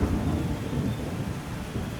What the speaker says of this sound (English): pouring rain and covering the sky